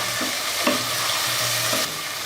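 Tomato masala fries and sizzles in a pan while a spoon stirs it in a few scraping strokes, a close, continuous crackle without any voices.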